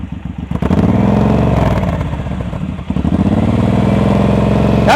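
A motorcycle engine held at steady revs during a slow-speed practice turn, a loud continuous throbbing drone with slight rises and dips in pitch, close by.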